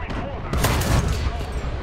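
Tank cannon and gunfire from an M1 Abrams in War Thunder, a dense burst of loud, continuous firing with heavy low rumble, swelling midway and holding steady through the short stretch, with a voice faintly present underneath.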